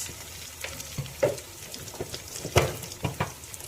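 Ginger garlic paste fries in a pan over a gas flame, a soft, steady sizzle broken by repeated clicks and scrapes of stirring, with a few sharper spatula knocks and no voices.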